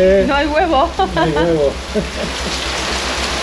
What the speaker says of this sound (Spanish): Lloviendo otra vez.